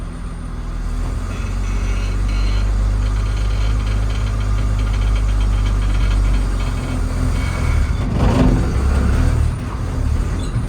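Steady, loud engine drone from a 1969 Chevrolet C10 truck labouring as it pulls away, a low rumble that holds throughout with a rougher burst near the end.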